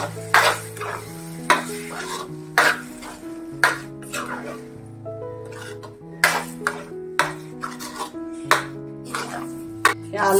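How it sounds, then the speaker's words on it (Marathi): Fresh spinach for a palak soybean sabji is stirred in a metal pan over low gas, with close, regular scraping and clanking strokes over a steady tonal background. "पालक घालून घ्यायचा आहे. हा पालक घालून घेतलाय."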